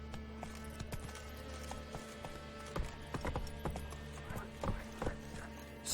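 Roach the horse's hooves beat a clip-clop rhythm on the ground in The Witcher 3, the steps close and fairly clear over steady background game music, with a faint snort or whinny.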